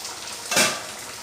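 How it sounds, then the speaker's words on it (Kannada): A metal lid is lifted off a pot of simmering palak paneer, giving a single brief clink and scrape over a low steady kitchen hiss. "ಈಗ ಮುಚ್ಚಳ ತೆಗೆಯುವ."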